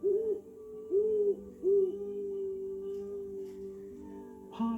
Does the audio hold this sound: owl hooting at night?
yes